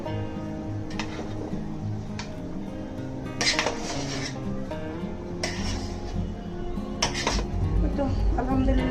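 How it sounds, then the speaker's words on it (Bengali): Biryani being stirred in a very large cooking pot, with scattered metallic clanks and scrapes of the utensil against the pot, while a person talks throughout. "নাড়াচাড়া করে সবগুলো একসাথে একটু মিশিয়ে দেবো"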